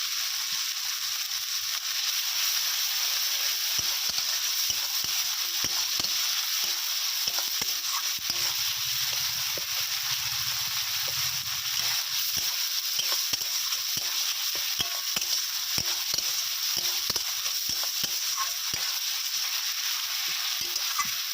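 Ginger-garlic paste with turmeric sizzles and crackles steadily in a hot pan, with occasional stirring scrapes, close and continuous with no talking.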